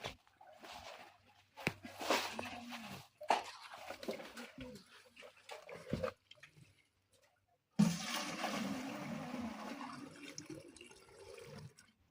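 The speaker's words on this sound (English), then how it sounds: "So this is our borehole. This is where we get our clean water" Clean water gushes from a borehole at a home garden, a steady close rushing flow that cuts off briefly and then starts again strongly. A voice speaks faintly early on.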